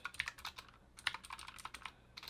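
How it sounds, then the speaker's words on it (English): Rapid, uneven typing on a computer keyboard, with clustered key clicks and short pauses, close and fairly faint, with no voices. "And I apologize, my typing is not the best."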